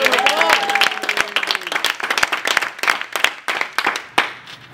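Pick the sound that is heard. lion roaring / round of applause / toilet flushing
round of applause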